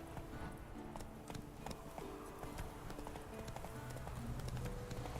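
Hooves of Roach, the horse from The Witcher 3 video game, clop along at a steady trot, with close, regular beats continuing over a busy game ambience.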